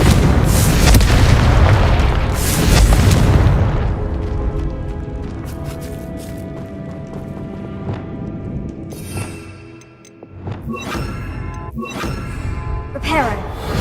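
Confringo fire-blast spell in Hogwarts Legacy: a loud booming explosion up front that rumbles and decays over several seconds, followed by scattered crackles, clinks and small bursts, with someone talking over parts of it.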